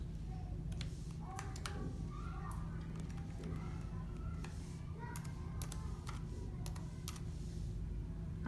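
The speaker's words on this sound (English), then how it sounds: "So apologize, I'm typing with one finger." A Chromebook keyboard is typed on with one finger, giving sparse, irregular light key clicks that are quiet and close, over a steady low hum.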